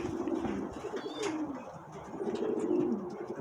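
Homing pigeons coo in a loft with soft, throaty rolling calls close by. Faint rustling and chirps come through between the coos and no one speaks.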